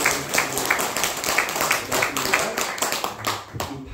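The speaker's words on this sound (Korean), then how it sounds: "우리 성가대 모든 분들께서 박수 한번 쳐주세요." A church congregation claps for the choir after a soloist's hymn at a Sunday service, with dense, steady hand claps filling the room and voices mixed in underneath.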